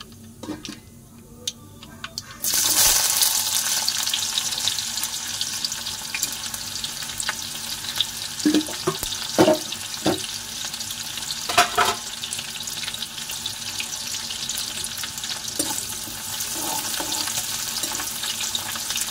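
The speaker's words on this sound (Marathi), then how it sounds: "कांदा आपण चांगला फ्राय करून घेऊ." Chopped onion hitting a hot pan for a Marathi stuffed brinjal dish, with a sudden sizzle surge that settles into steady frying and is broken by sharp stirring clicks and scrapes.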